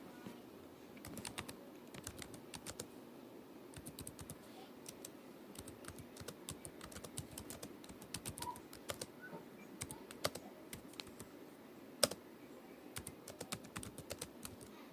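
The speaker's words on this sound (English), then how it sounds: "I type so slow" Steady, quiet keyboard typing indoors, a continuous stream of soft close keystrokes with a few sharper taps and no talk, as someone slowly writes a message.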